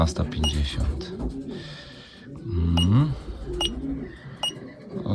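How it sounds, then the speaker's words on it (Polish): Older racing pigeons cooing in a loft, several soft throaty coos rising and falling close by, with someone speaking between them. "tu akurat starsze gołębie"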